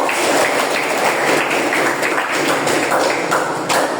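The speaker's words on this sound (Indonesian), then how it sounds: "Beri tepuk tangan buat kita semua." Dense, steady clapping from a Year 7 classroom full of students, continuous for a few seconds with uneven individual claps blending together.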